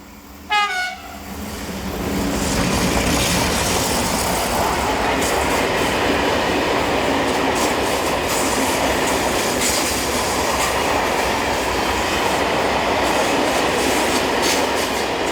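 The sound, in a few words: passing train with a Class 335 diesel locomotive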